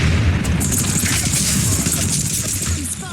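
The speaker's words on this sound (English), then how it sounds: "Frag out. Heads up, grenade." Grenade blast in a first-person shooter game played at max settings, a loud low boom with rumbling aftermath and scattered crackle, close and dense, with a faint voice underneath.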